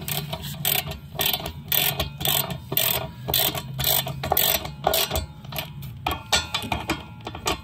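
A hand ratchet snugs bolts on the rear brakes of a Kia Soul. It gives quick, close clicking strokes in uneven bursts with short pauses and no voices.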